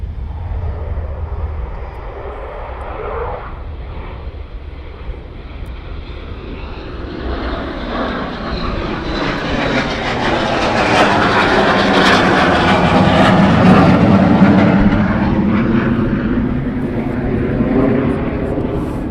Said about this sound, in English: So we have 2 Typhoons from the 41 Squadron now taxiing down.